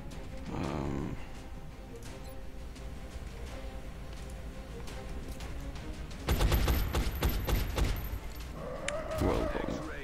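Gunfire in the XCOM video game, a burst of rapid broadband shots crackling for a few seconds amid game sounds, with an earlier growling creature-like cry and a later rising alien screech.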